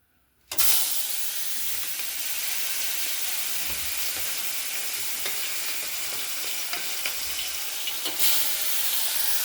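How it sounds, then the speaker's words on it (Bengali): Fish sizzle and spit in hot mustard oil in a wok. The frying starts abruptly and then holds as a steady, close hiss with small crackles, with no talking. "এবারে মাছগুলো ভেজে নেব।"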